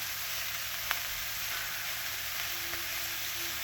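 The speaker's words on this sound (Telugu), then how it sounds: "ఇదిగో క్యాబేజీ వేసాను, పోపు అన్నీ వేసేసాను. ఇది కొంచెం మగ్గాలి." Cabbage with tempering spices and curry leaves cooking in a pan, giving a steady, soft sizzle with a faint crackle close by, heard alone.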